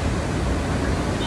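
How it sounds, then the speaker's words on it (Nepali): Water rushes steadily at Mirmi dam on the Kaligandaki hydropower site, a loud, constant broadband roar filling the short moment without pause. "तपाईँहरूले पानीको राफ सुन्न सक्नुहुन्छ।"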